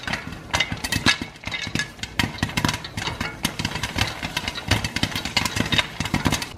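Popcorn kernels with black pepper pop in a pot, sharp irregular cracks scattered densely over a steady background rumble, close and moderately loud.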